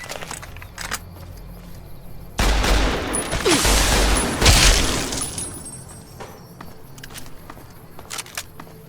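Heavy gunfire from a big gun in Fallout: New Vegas, fired at Cazadors, bursting loudly in a dense roar for about two seconds, then trailing into fainter game noise.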